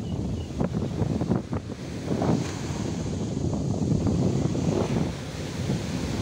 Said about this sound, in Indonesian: ombaknya cukup besar.